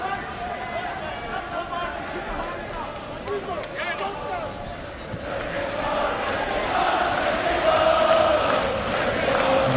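Boxing arena crowd for Ricky Burns's bout against Joseph Laryea, a continuous roar of spectators that swells louder in the second half, with a commentator talking over it throughout.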